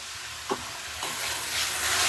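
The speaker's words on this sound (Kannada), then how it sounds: "ಮಶ್ರೂಮ್ ನ ಹಾಕಿ ಆದ ತಕ್ಷಣ ಸ್ವಲ್ಪ ಕ್ಲೀನ್ ಆಗಿ ಮಿಕ್ಸ್ ಮಾಡ್ಕೊಳ್ಳೋಣ" Mushrooms sizzle steadily in a hot pan while a spoon stirs them, with a couple of scraping strokes and the frying hiss rising toward the end.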